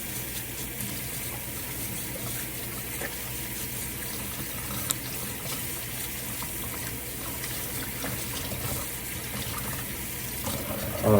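Tap water gushes steadily into a sink for hand washing before cooking, a continuous running stream that holds even for about eleven seconds, close and fairly loud with no talking.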